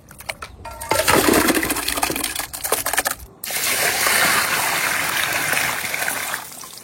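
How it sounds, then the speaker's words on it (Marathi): Kapure being washed by hand in clean water, with loud splashing, rubbing and rattling in two bursts separated by a short pause, close up and with no talking. "आपण आता कपुरे व्यवस्थित धुवून घेऊ स्वच्छ पाण्याने"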